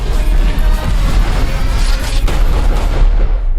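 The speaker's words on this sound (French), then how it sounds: "Allons tout faire exploser." A heavy explosion roars in a continuous loud, rumbling blast, dense with crackling debris and deep low-end thunder that slowly fades at the end.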